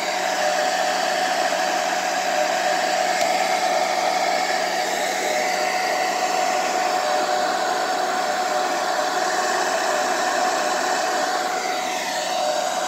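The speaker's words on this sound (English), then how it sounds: "See if we can bring this kind of high, the hair dryer." A hair dryer blows steadily and loudly across poured acrylic paint in an abstract pouring artwork, a continuous broadband whoosh with a faint high whine, holding level for the whole stretch.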